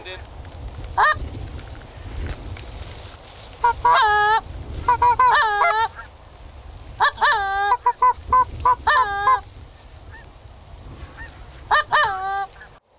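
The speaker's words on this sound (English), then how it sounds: "the geese just kept coming, so they got ready for some more" Geese honk repeatedly in bursts as they fly over during a goose hunt, several birds calling together, fairly close and loud, with a low rumble of wind or engine beneath.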